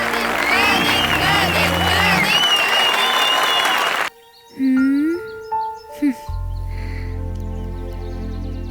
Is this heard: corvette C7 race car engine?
no